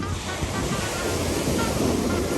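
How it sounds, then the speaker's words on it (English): Cold ocean surf breaks along a beach in a steady, loud roar of rushing water, heavily buffeted by wind noise on the microphone. "The waves are plenty big for that."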